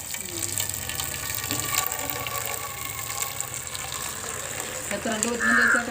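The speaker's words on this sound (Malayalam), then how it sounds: "കംപ്ലീറ്റ് ഊറ്റണോ വെള്ളം ഊറ്റണോ?" Water is drained off a cooking pot in a Kerala home kitchen, gushing and splashing close by while people talk over it, with a louder pour near the end.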